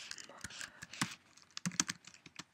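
Short, uneven bursts of keystrokes on a Mac computer keyboard, crisp close-up clicks with brief pauses between quick runs of typing.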